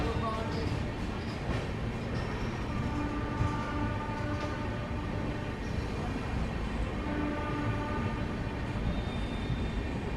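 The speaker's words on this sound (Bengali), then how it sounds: "ট্রেন ছেড়ে দিল আমাদের সাঁতরাগাছি থেকে" Digha Tamralipta Express pulling out of Santragachi station platform 2, a steady rumble of wheels and carriages with faint squeals and a murmur of voices, continuous and moderately loud throughout.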